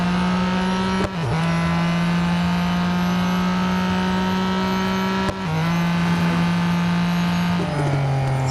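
Acura NSX GT3 race car engine in the mobile racing game Real Racing 3, a steady, loud sustained drone held at constant pitch, with brief dips as gears shift near the one- and five-second marks and a lower note near the end.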